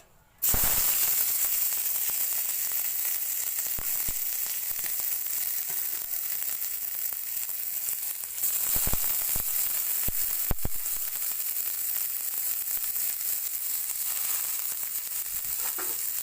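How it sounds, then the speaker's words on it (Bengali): Chopped onions hit hot oil with a sudden loud sizzle that settles into a continuous, bright frying hiss, broken by a few sharp crackles and pops, with no talking. "তেলটা গরম হয়ে গেছে। এর মধ্যে আমি এখন দিয়ে দিচ্ছি কুচিয়ে রাখা পেঁয়াজ।"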